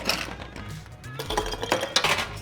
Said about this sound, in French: Dans un verre